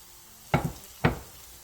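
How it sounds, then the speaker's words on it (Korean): Zucchini pancake batter dropped into an oiled frying pan: two short, sharp sizzling bursts about half a second apart, each fading quickly into a soft background hiss, close and clear with no talking. "팬에 기름을 두른 뒤 한 입에 먹기 좋은 크기로 애호박전 반죽을 올려주세요."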